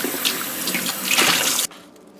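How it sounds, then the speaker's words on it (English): Tap water runs over salted saltfish in a sink, a steady broadband splashing rush that cuts off abruptly, leaving quiet. "you want to wash off the salt from it first"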